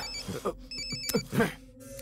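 A telephone rings in short repeated electronic bursts, with voices and background noise around it.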